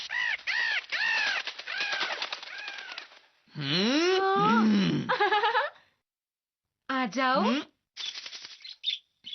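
A parrot in a Hindi-dubbed Doraemon cartoon gives loud, harsh squawks in repeated bursts with pauses between, close and prominent, with a voice speaking briefly amid the calls.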